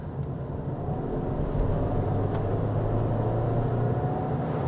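A Subaru Forester e-Boxer hybrid accelerates with a loud, droning engine note from inside the cabin, sustained and rising slightly over the whole stretch with no talk over it.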